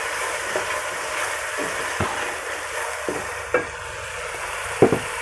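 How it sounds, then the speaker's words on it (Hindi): A spoon mixes fish curry masala with green chillies in a pan, giving a steady soft frying hiss broken by several sharp scraping clicks of the spoon against the pan, with no talking. "से 1 दफ़ा इसको मिक्स कर लें।"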